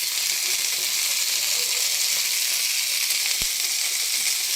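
Cumin seeds and curry leaves fry in hot oil in a pan for green chutney, a steady bright sizzle throughout with a faint click partway, close by and without talk.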